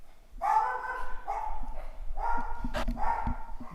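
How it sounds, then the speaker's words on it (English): A dog barks indoors, nearby, in four or five tonal barks spaced about a second apart, with faint thumps and clicks between them and no talking. "My dog's barking."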